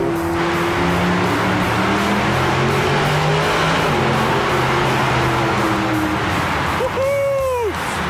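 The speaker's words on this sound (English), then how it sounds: "Great engine. Absolute pleasure." A Mercedes SLS AMG Roadster engine drones steadily for several seconds with a rising harmonic pitch, then revs sharply near the end in a loud swelling sweep, close and continuous.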